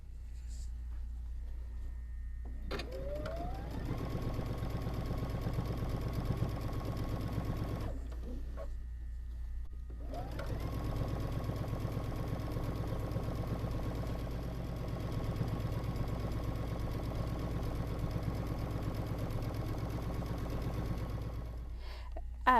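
A sewing machine stitches down quilt binding in two long runs, spinning up to a steady mechanical whir and stopping between passes against a low background hum.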